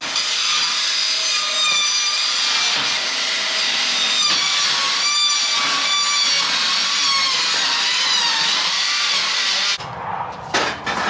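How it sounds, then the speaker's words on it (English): A circular saw fitted with a wood blade cuts through thin tin sheet with a loud, continuous whine and metallic screech for about ten seconds. The cut then stops abruptly and a few brief clatters follow. "tin is so thin that you can cut through it with a like a wood blade on a circular saw"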